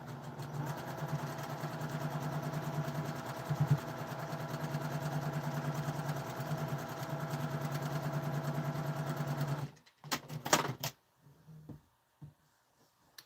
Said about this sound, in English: Then I can start sewing these bad boys together